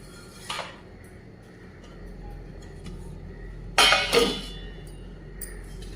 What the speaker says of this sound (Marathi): आता दोन मिनिट आपण त्यावर झाकण ठेवणार आहोत